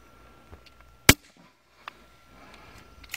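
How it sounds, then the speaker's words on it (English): An Excalibur crossbow fires in one sharp, loud snap, followed by a few faint clicks and handling noises in an otherwise quiet space. "I'm going to push the anti-dry fire lever in, and I'm going to fire the crossbow"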